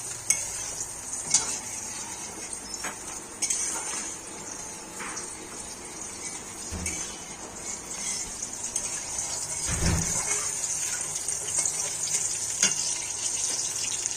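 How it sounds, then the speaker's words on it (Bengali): Cumin seeds, dry red chilies and bay leaves tempering in hot oil, a continuous close sizzle with intermittent stirring clatter and a brief splashy burst midway, no talking. "তেজপাতা, শুকনো লঙ্কা আর সাদা জিরা ফোড়ন দিয়েছে"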